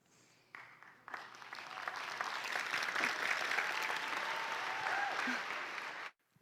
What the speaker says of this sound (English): Can we have another round of applause for Lily Shekels?